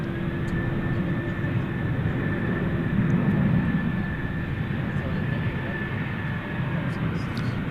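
An Iberia Airbus A330-300 jet, flight 364 bound for Madrid, passes at night at DFW Airport, giving a steady, continuous broadband roar with a faint high engine whine held throughout, loud and unbroken with no talk.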